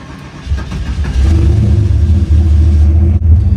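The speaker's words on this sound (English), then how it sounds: "with that header gasket fixed, I can already tell the engine runs a lot smoother" A Malibu car engine running after a header gasket repair, producing a loud, close, steady low rumble that swells slightly as it settles into a smooth idle, with no talking.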